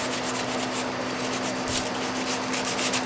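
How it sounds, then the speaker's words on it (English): Sandpaper rubs steadily over a hand-carved wood figure, a continuous close, dry scratching that stays even for a few seconds with no talking. "I'm going to sand them up a little bit."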